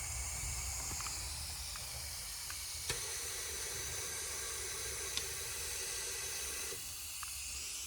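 A powder coating spray gun with a sticky trigger gives off a steady, soft airy hiss, with a few faint clicks.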